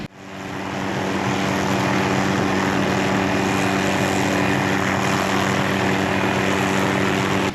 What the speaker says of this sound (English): a helicopter just flew in